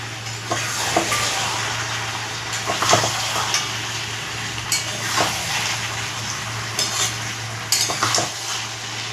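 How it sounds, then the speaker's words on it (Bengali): Malabar spinach (pui shak) stir-fried with a fish head in a pan, a steady close sizzle broken by scraping stirs and sharp clinks of a spatula against the pot, with no voices. "আর আমি ঢাকা দেবো না, এমনি কষিয়ে কষিয়ে আমি জলটাকে শুকিয়ে নেব"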